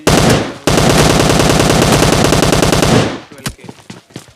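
Thompson submachine gun firing in a video game, a loud, close, continuous burst of rapid automatic fire lasting about three seconds, broken by a brief gap, then trailing into scattered shots and faint background noise.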